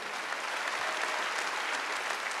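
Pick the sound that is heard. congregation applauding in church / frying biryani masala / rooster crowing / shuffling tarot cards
congregation applauding in church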